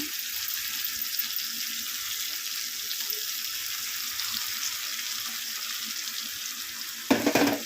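Chicken curry with mint and blended gravy sizzles in a pan as a steady hiss. Near the end there is a brief louder burst of stirring or scraping.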